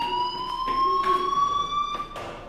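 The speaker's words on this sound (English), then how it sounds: "Hey, do you hear that fire alarm? That means you should be outside." A school fire alarm in the Life Is Strange video game rings continuously with a shrill, steady electronic tone, broken by short recurring bursts and heard at moderate volume with no speech.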